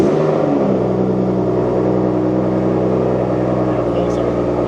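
A BMW 435i engine catches on a cold start and settles into a loud, steady idle, a deep rumble with a faint whirring layer running throughout.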